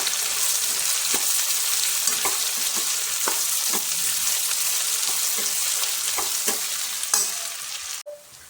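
Onions and dried prawns sizzle steadily in a hot pan while a spatula scrapes and stirs at irregular intervals; the frying hiss stays close and even before dropping away near the end.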